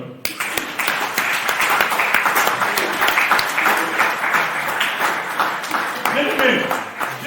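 Church congregation applauding and cheering to acclaim the Lord during a sermon, a loud, steady wash of many hands clapping close by for several seconds, with raised voices mixed in.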